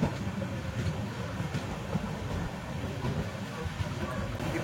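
The Tripura Sundari Express runs on rails with a steady low rumble and faint rhythmic wheel clatter, heard from inside the moving train at moderate volume.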